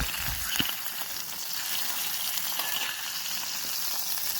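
Meat frying with garlic and rosemary in a cast-iron pan over a spirit burner, a steady close hiss of sizzling fat that holds evenly throughout, with a small pop near the start.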